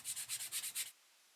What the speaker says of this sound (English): I'm going to just take my little sanding block and I'm just going to kind of sand that down